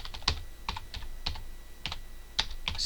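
Fingers tap out a short burst of keystrokes on a computer keyboard, quick irregular clicks close up and fairly quiet, with no talking.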